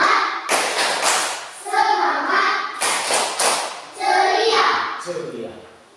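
A classroom of children in Kupang does a rhythmic clapping cheer, with bursts of claps and thumps in patterned groups alongside chanted voices, close and lively.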